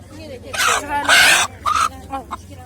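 Chickens cluck and squawk in short loud bursts amid a busy poultry market in Turtkul, with people talking nearby over a low background hum.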